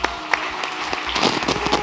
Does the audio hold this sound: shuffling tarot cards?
no